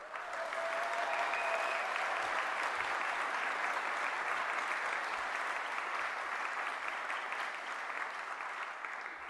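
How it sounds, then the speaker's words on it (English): A big round of applause rises for the graduates at a Fife College graduation ceremony, steady, dense clapping from a large audience that carries on evenly for several seconds at moderate volume. "Can we get a big round of applause for all of our graduates?"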